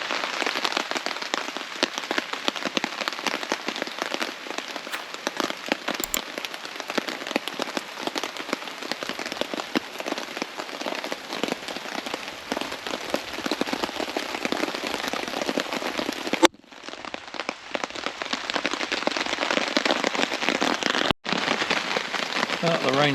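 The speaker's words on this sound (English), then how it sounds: "The rain's not letting up" Heavy rain drums on a camping tarp during a wet, windy storm, a dense, close patter of countless hard drops with a couple of brief dropouts, continuing without letup.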